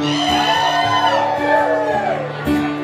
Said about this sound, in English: So somebody scream!